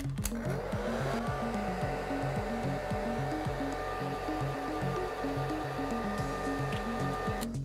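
Hair dryer blowing steadily up close to dry makeup setting spray sprayed over a drawn rune on skin, a continuous loud whooshing drone with a pulsing motor hum throughout.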